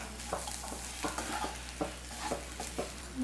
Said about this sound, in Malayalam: അതിനുശേഷം നന്നായിട്ട് അങ്ങോട്ട് മിക്സ് ചെയ്ത് കൊടുക്കാം